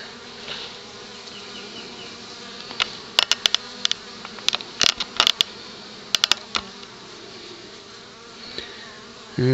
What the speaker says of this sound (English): There's a bee trying to come out the end of the cone